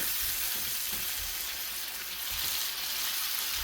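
Pheasant back mushrooms frying in a pan, a loud, steady, close sizzle with faint stirring throughout.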